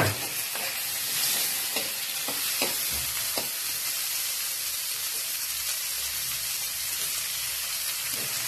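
Tomatoes sauté in a hot pan for adobong takway, a broadband sizzle and hiss running steadily throughout, with a few sharp stirring clatters from the utensil early on.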